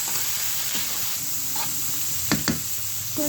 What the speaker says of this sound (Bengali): লুডুসগুলো নেড়ে দেবো।